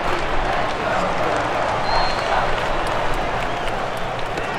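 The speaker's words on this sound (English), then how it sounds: "Well, the crowd's excited now" A baseball stadium crowd in the MLB 2K8 video game roars in a dense, sustained wash of cheering, loud and broad, with a commentator's voice over it.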